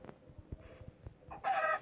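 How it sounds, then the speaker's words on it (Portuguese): Minecraft chicken clucking in a forest world, a few short quiet clucks ending in a louder burst, alone without talk. "Pega a galinha, pega ele, galinha."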